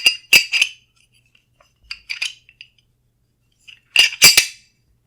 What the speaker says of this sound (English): So we're going to drop our barrel in.